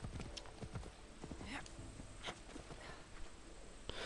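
Horse hooves clip-clop in Assassin's Creed Odyssey, a quick irregular run of hoof strikes at moderate distance over a low game ambience, with a few stray clicks and no clear talk.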